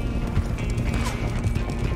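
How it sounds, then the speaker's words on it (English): Horse hooves gallop in a steady clip-clop rhythm during a horseback ride in Red Dead Redemption 2, close and continuous under a busy game mix. "I'm on horseback!"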